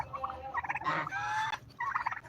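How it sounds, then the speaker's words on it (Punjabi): Turkeys on a farm with ducks and native chickens gobble in quick rattling bursts, a few calls in a row at moderate distance over a low background hum. "ਬੱਤਖਾਂ ਟਰਕੀ ਮੁਰਗੀਆਂ ਦੇਸੀ"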